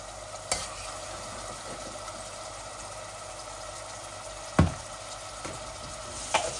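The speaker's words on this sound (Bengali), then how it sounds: "আদা রসুন দিচ্ছি আমার পরিমাণ মতো" Blended ginger-garlic paste frying in a pan for chicken bhuna, a steady low sizzle with a few sharp clacks of a spoon stirring against the pan, with no voices.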